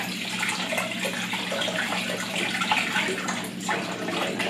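Steady kitchen tap water running while tomatoes are rinsed under it, a continuous splashing hiss with small shifts as the stream hits the fruit, heard close and alone.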